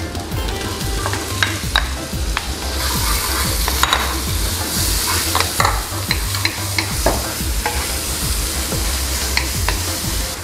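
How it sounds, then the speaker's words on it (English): Garlic and onion sizzle steadily in a hot pan while being stirred, with frequent clicks and scrapes of a utensil against the pan throughout, close and fairly loud, with no talking. "So saute our garlic."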